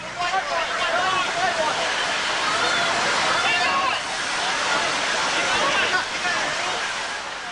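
The flooded Iowa River rushes past a city street bridge with a loud, continuous roar of fast water.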